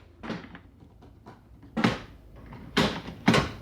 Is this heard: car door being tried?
yes